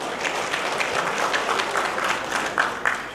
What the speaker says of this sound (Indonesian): Boleh kita berikan aplaus yang meriah untuk buruh sekota Makassar.